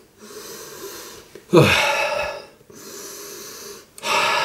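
Two close, breathy sniffs of a Malbolge shaving soap, each a sharp intake of air, separated by a short pause and followed by another starting at the end.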